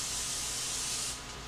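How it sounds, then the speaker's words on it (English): Non-stick cooking spray hisses from an aerosol can into a muffin tin in a steady, close burst that lasts about a second before easing off. "We're just using some non-stick cooking spray. You want to make sure that you really get into the sides of it and the bottom."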